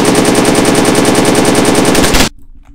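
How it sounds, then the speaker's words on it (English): Loud, rapid automatic gunfire from a video game firefight, a sustained burst of closely spaced shots lasting about two seconds before cutting off sharply into quiet. "Shots ahead."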